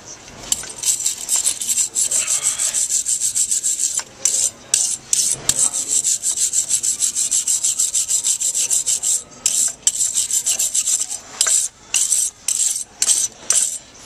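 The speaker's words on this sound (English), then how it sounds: "Grab a wire brush, get all in there clean, get all that old brake dust off and all that, to both sides." Wire brush scrubbing old brake dust off the front brake parts of a 2000 Buick Century, loud rapid rasping strokes up close in repeated bursts with short pauses between.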